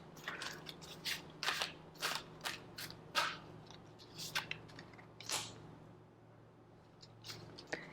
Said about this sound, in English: Ooh, cards flipping.